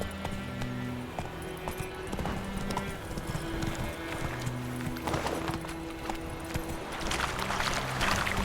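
Roach the horse gallops in The Witcher 3, with steady rhythmic hoofbeats clip-clopping close and loud over a low in-game music bed and ambient wind, and a faint whinny may surface.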